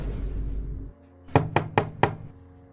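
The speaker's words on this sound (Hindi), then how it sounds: "कौन दरवाजा खटखटा है?" Four sharp knocks on a wooden door in a Chhattisgarhi comedy sketch, evenly spaced and fairly close, following a stretch of louder background noise that cuts off.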